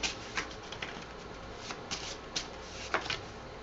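Tarot cards being shuffled by hand, a soft continuous riffle with sharper flicking bursts every second or so, close and fairly quiet with no voices.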